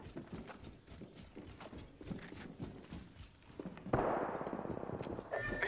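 Gunfire and combat effects in the Apex Legends battle royale shooter, a run of sharp repeated shots with clattering steps and mechanical handling, growing denser and louder toward the end.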